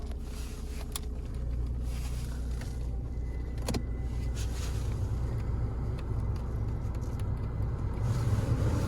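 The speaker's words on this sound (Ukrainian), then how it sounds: "Дивіться, як має запускатися дизель на 240 тисячах пробів з пів оберту" A Skoda Octavia Tour 1.9 diesel with 240,000 km on it starts up and settles into a steady, close idle, a low continuous rumble with a faint mechanical clatter.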